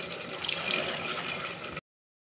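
Water splashes and gurgles steadily into a cooker holding soaked black chickpeas, a close, continuous pour that stops abruptly near the end.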